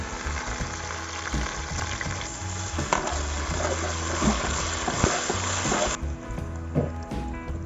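Onion frying in about two spoons of hot ghee in a kadai, a loud, steady sizzle with scraping stirs and occasional knocks, close up under a low background hum that drops away near the end.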